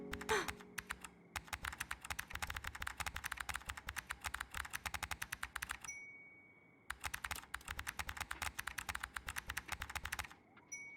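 Fast, steady typing on a computer keyboard in a game, crisp close key clicks in two long runs with a short gap between them, and soft ding tones at the pauses.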